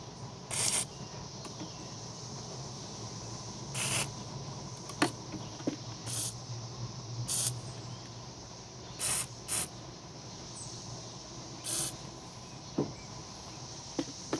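Liquid Wrench penetrating oil sprayed onto engine parts of a 2002 Nissan Sentra 1.8L during head gasket removal, heard as about nine short, sharp hissing squirts at irregular intervals over a steady background hiss.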